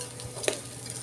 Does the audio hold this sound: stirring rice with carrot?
yes